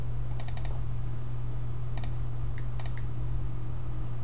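Soft taps on an iPod Touch screen keyboard while a search is typed, a few quick clusters of light clicks over a steady low hum, close and faint.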